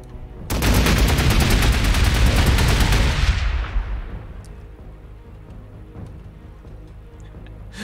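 A crack grenade in the video game Warhammer 40k Gladius: Relics of War sets off a dense, loud blast of rapid-fire explosions and gunfire lasting a few seconds, then fades into a quieter tail of scattered ambient ticks.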